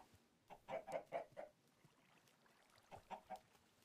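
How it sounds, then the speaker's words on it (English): Chickens cluck in a video game, two short groups of soft, rapid clucks separated by a quiet pause, faint and distant. "And I spy chickens."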